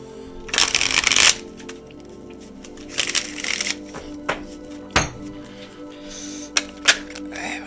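Tarot cards being shuffled up close in a quiet room, with two long riffling bursts followed by scattered sharp taps and clacks as the sticky deck is handled.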